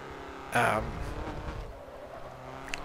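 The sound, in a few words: Ford Fiesta car driving in a racing video game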